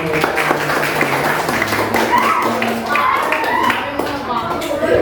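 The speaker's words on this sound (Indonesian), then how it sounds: "tepuk tangan buat Mas Fadli" Elementary school students in a classroom clap for a departing classmate, a rapid irregular patter of hands near and loud, with children's voices talking over it throughout.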